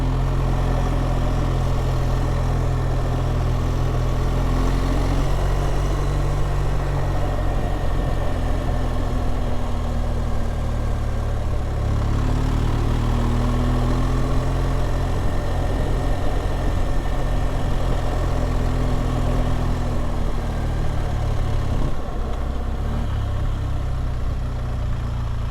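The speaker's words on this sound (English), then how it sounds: "Nice and easy on the bike, on the motorbike." A steady, low engine idle rumbles continuously and close, with a slight rise and fall in pitch and no voices.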